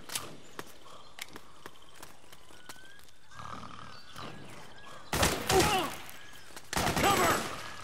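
Gunfire in the video game Metal Gear Solid 4: scattered sharp shots crack over a quiet background, followed by two louder bursts of heavy fire mixed with roaring and clatter.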